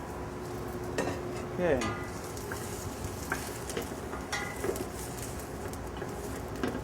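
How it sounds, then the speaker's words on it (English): Onion sautéing in olive oil in a pan gives a steady low sizzle through the whole stretch, with a few soft stirring clinks and a brief spoken word near the start. "So now we'll be starting with the sauté the onion."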